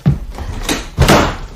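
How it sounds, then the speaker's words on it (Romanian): A door slams shut in a household setting in a Romanian radio theatre play, a sharp thud near the start followed by a second louder bang about a second later, with no voices. "Pentru o casă civilizată ușile se închid cu mâna."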